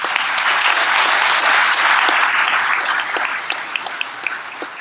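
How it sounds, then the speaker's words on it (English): Loud applause from an audience at an awards ceremony honoring a longtime contributor, a thick burst of many clapping hands that holds strong, then thins out toward the end with a few distinct claps remaining. "big round of applause for Todd"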